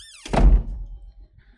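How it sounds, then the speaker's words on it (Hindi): A single heavy thunk of a door being shut close by, a sharp low-frequency impact that fades into quieter room rumble and faint rattles. "अब मैंने दरवाजा बंद कर दिया"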